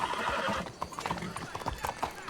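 Criollo horse in a video game, a whinny at the start followed by rhythmic clip-clopping hooves at a steady trot, faint overall with soft voices in the background.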